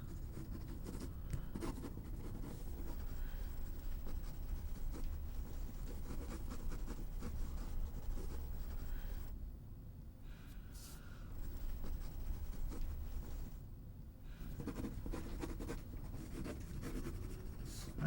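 A pencil sketches a comic book page on paper, giving a continuous close scratching and scraping that pauses briefly twice as the strokes stop and resume.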